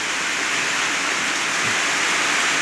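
Heavy rain pours down steadily in a rural field, a dense, loud, unbroken hiss of falling water with no pauses and no voices.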